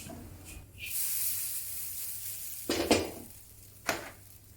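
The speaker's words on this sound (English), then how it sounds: "flip the noodles over to pan fry the other side." Vegetable noodles frying in a hot wok give off a steady sizzling hiss, broken by a few sharp metallic scrapes and clanks of a utensil against the pan.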